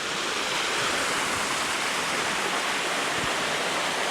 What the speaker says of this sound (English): we have this other nice waterfall here